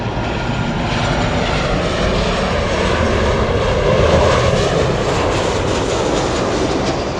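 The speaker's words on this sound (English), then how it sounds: "There's a Super Airbus 380 turning final." An Airbus A380 jet airliner on final approach at LAX makes a loud, steady broadband roar that holds constant throughout, with no voices.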